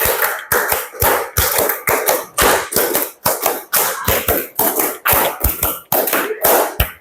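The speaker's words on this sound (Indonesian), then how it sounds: "tepuk 2, tepuk 3, tepuk 4, tepuk 5, tepuk 5 kali" A class of children claps hands together in counted groups, producing loud, sharp bursts of clapping in quick rhythmic clusters with short pauses between each set.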